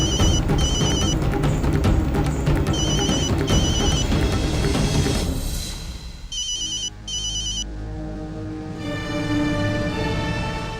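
A telephone ringtone in a Hindi family drama, with repeated electronic ring bursts playing loudly through dense background music and sound, fading partway before the ringing pattern returns.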